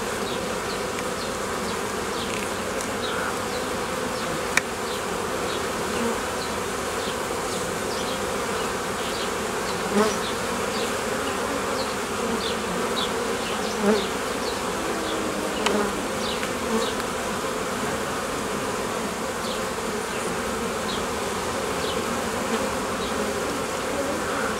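Honey bees buzz densely and without a break around an open hive while a beekeeper splits a colony to form a new swarm. The drone stays loud and even throughout, with individual bees zipping past close by and a few soft knocks.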